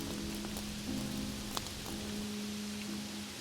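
Steady monsoon rain falls on a city street, a dense continuous patter of drops with a few sharper splashes, with a low hum running underneath throughout.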